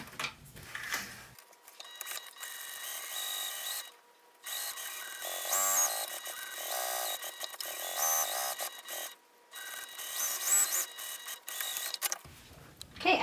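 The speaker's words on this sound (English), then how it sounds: "Okay, let's sew." A sewing machine stitches a handmade fabric bag, running in steady bursts with brief pauses between seams, close and moderately loud with no talking.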